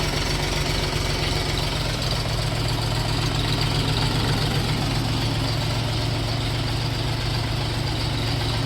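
Orion RD244 mini tractor engine idling, a loud, close, steady diesel chug with a low knocking throb that continues unchanged throughout, no voices.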